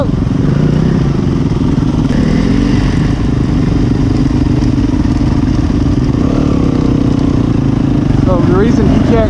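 A dirt bike engine revs hard and steadily while the bike fails to climb a slope on a forest trail during the Smuggler Run in Capital Forest. The engine is loud and close, with continuous rough clatter and rising revs.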